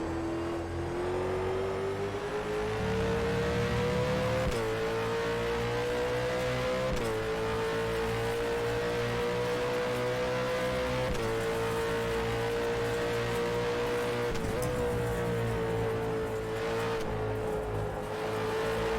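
Supercar race cars roar around Sydney Motorsport Park at night in the rFactor 2 racing game, a loud continuous engine drone climbing in pitch with periodic gear shifts and surrounding cars close by, no talk.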